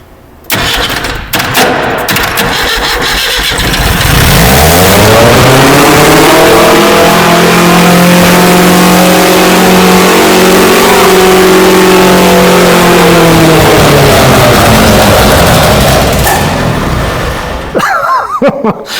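A 1965 Datsun 320, abandoned and parked for 40 years, cranks and fires, then revs loudly and steadily for most of the clip before settling, with the engine close and continuous throughout.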